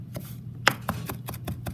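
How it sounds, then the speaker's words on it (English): Fresh garlic being chopped with a knife on a board for paella, a quick irregular series of sharp close taps over a low steady hum, about eight strikes in under two seconds. "We're prepping for our paella and we're chopping fresh garlic."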